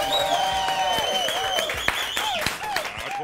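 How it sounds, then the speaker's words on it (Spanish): Studio audience applause and clapping on a Spanish-language TV comedy show, heard under bright electronic musical tones and sweeping synth notes, with scattered sharp claps throughout. "Fuerte aplauso para mi apuntador electrónico, Webby."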